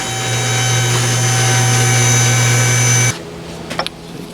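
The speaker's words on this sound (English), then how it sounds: "Let's go ahead and get that last bolt loose" A power tool whirs steadily and loudly while loosening the last bolt on an AMC Spirit AMX, a high sustained whine that cuts off abruptly, followed by a few faint clinks and knocks of the tool settling.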